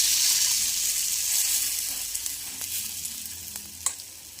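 Gourd batter dumplings (appe) sizzle in a hot appe pan, a loud steady hiss that eases slightly as a few sharp clicks and taps of the spoon against the pan break in toward the end.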